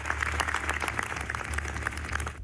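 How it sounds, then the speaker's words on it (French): Applause from a crowd of about 300 at an outdoor memorial march in Lyon, soft and somewhat distant, rolling steadily throughout over a low background hum. "Un discours poignant et des applaudissements."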